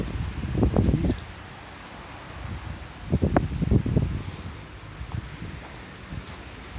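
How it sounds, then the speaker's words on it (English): Gusts of wind rush through leaves at a shrine in Saitama in rising and falling waves, rustling close to the microphone with quieter lulls between stronger bursts. "It's a very windy day."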